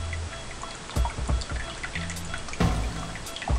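Water pours slowly from a pour-over coffee kettle into a coffee dripper, a thin steady trickle with soft dripping and a few sharper splashes and clinks, close and fairly quiet.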